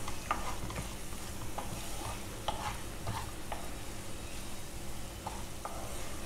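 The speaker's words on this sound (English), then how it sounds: "Now I will add my cardamom powder to this and saute for a while" Beetroot halwa with cardamom powder sautéing in a pan, heard as quiet, repeated stirring scrapes over a faint, steady sizzle.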